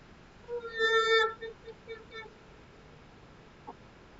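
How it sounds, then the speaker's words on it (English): A chicken gives one drawn-out, loud squawking cluck, followed by a few shorter fainter clucks, heard close against a quiet background. "That's what chickens sound like."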